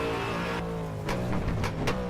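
A Ford Falcon V8 Supercar race car engine drones loudly and continuously, with a slight shift in pitch and a few sharp transient bursts over the steady roar.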